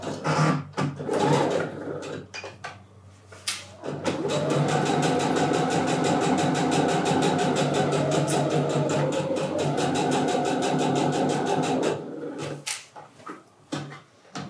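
A sewing machine stitches fabric 1 cm from the edge, with a few short stop-start bursts for backstitching and then one steady whirring run of about eight seconds before stopping.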